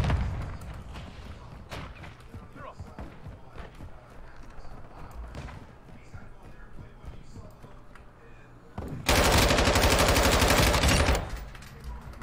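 Gunfire in the video game Modern Warfare II, scattered faint shots under talk and game noise, then a loud dense burst of fire near the end around a long-range sniper kill.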